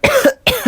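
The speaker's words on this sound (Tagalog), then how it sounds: "Hala, inuubo ka ba, nak?" A child coughs twice in quick succession, close and loud, with a brief gap between the two harsh bursts.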